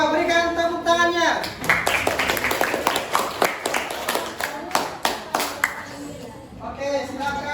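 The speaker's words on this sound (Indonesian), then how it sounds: "coba berikan tepuk tangannya" A group of students in a classroom clap their hands together in a burst of fairly close applause. Voices are heard alongside the claps.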